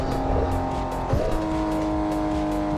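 A racing car engine in the No Hesi racing video game hums at a steady high pitch, shifting tone briefly partway through, with a faint tire-like squeal and no talking.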